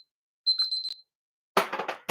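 A kitchen alarm gives a short run of bright, rapid electronic beeps, then falls silent before a burst of clattering knocks and handling noises follows close by.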